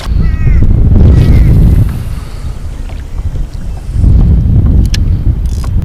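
Wind-buffeted kayak paddling on a lake, with steady broadband wind and water rush across the whole stretch, swelling loudest at the start and again near the end, and no one speaking.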